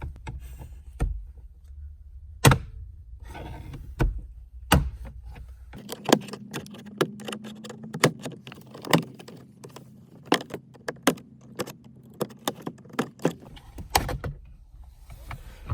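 A miniature flat bar pries a plastic trim panel off a car, giving a series of sharp clicks, snaps and scrapes spaced irregularly, close and fairly quiet, with a brief low hum in the middle.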